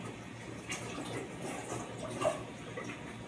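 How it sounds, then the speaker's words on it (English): Leafy greens are rinsed under a running tap, with a soft, steady stream of water splashing and trickling at moderate distance, a few slightly louder splashes as the leaves are moved. "So I'm going to give it another wash."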